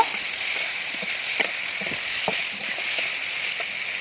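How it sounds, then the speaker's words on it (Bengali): Tomato and potatoes sauté in a pan for a fish curry, giving a steady sizzle with faint scraping and stirring clicks throughout, no talk. "দিয়ে আবারও একটু নেড়ে চেড়ে ভালো করে কষিয়ে নেব।"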